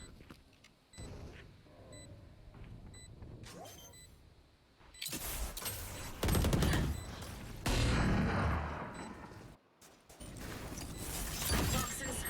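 Gunfire bursts from a tactical shooter video game over a steady game soundscape, with louder rapid volleys in the second half and brief pauses between them; no one speaks.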